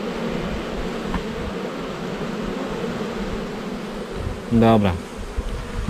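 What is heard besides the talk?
honeybees buzzing around a hive while introducing a queen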